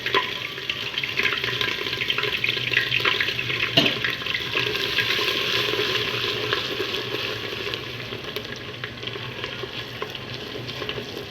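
Ginger sizzles in desi ghee in a handi for sarson ka saag, a dense continuous hiss close by with a watery, bubbling texture and an occasional sharp knock partway through.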